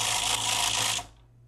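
An Olympia Traveller C typewriter's rapid spacer gives a fast, continuous mechanical clatter for about a second, loud and close, then stops abruptly, leaving a low hum.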